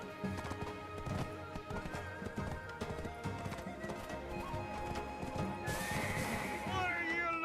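Horse hooves clip-clop steadily throughout, joined by a loud whinny near the end, with music from the video game Land of the Morning Light and a voice underneath.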